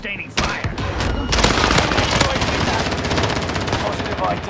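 Sustained automatic gunfire in Call of Duty on Rebirth Island, dense rapid shots overlapping continuously at close, loud range with almost no pause.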